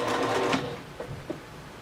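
A sewing machine runs continuously, close and fairly loud, back stitching a fabric pencil pouch, with a couple of faint clicks as it slows toward the end.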